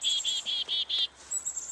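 Wild birds calling in spring: a quick run of five high, thin chirps, evenly spaced, followed by a softer trilling call, with no talk.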